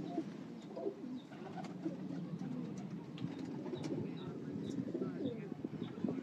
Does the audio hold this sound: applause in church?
no